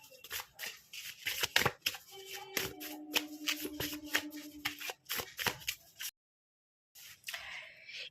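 Tarot cards are shuffled with quick riffling bursts and soft slaps, close and fairly quiet, followed by a short silence and a card being drawn.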